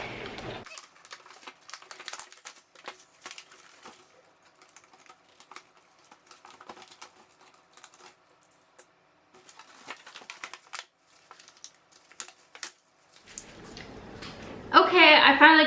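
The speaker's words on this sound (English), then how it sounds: "I finally got her out of the packaging" Barbie doll being pulled free from taped plastic packaging, soft crinkling, tearing and tapping scattered across the quiet stretch, with talking at the start and end.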